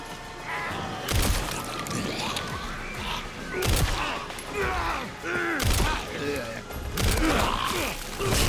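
Gunfire from a video game shooter, several sharp loud bursts at irregular intervals over a busy mix of game sounds, with a voice talking through it.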